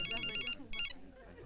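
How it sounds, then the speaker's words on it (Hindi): A phone ringtone plays two bright electronic bursts, one long and one shorter after a brief gap, fairly faint with a low murmur underneath. "फोन आया।"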